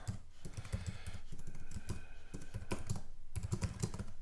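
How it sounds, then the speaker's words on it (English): Steady clicking of fingers typing on a computer keyboard while filling in event details on a parish council website, close and continuous with irregular bursts of keystrokes. "so we'd simply type the details"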